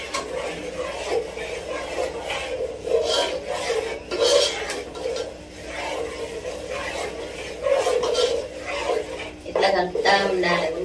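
Ariselu dough for a Sankranti festival sweet is mixed by hand, producing steady rubbing and squishing with occasional clinks of a vessel, while someone talks over the work.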